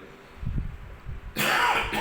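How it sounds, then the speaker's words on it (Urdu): A man with a sore throat coughs and clears his throat in a short, low burst, followed by a brighter, harsher rasp, close to the microphone with no words spoken. "گلا تھوڑا سا رات سے خراب ہے، اس وجہ سے کھانسی تھوڑی زیادہ ہے"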